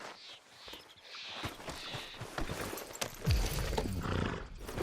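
A horse moving along with irregular hoof clops amid rustling and ambient outdoor noise, fairly close, with no talking.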